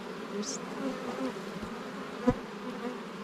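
Bees hum at an open beehive during a summer hive inspection, a low steady buzz close by with one brief louder pass and a faint thump, no talking.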